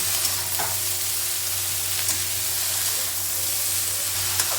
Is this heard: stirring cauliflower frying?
yes